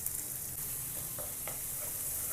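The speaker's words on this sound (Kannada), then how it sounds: "ಸ್ವಲ್ಪ ಫ್ರೈ ಆಗಿಬಿಡಲಿ" Chopped garlic and green chillies fry in ghee or oil, a soft, steady sizzle holding quietly throughout with no voices.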